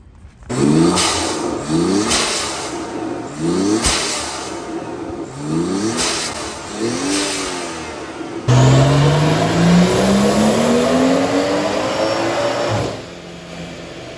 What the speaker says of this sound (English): It's time to hear what the blow-off valve sounds like.